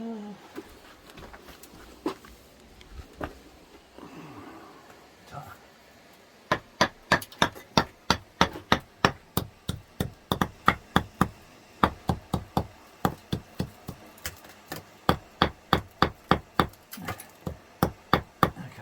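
After some quiet rustling, a hammer strikes repeatedly in a steady rhythm, sharp and close, dozens of blows in a row.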